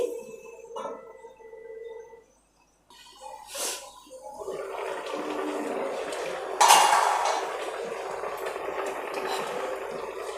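Cooking pot being covered with a lid while preparing a thin Bengali hilsa fish curry: a few metallic clanks and clinks of the lid, with low kitchen noise and a sharper clatter partway through.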